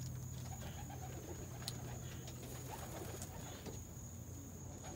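A pigeon in a loft coos softly at a distance, low murmuring calls under steady background noise, with faint chirps and no talking.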